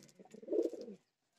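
Pigeons coo softly in a brief, low murmuring run that swells midway and then stops, leaving near silence; kept birds given mineral powder and liver tonic.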